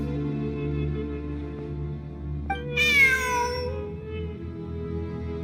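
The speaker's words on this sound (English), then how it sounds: "Look, a cat." A cat meows once in a video game, a clear rising-and-falling call that stands out over a steady droning ambient backdrop of low hums.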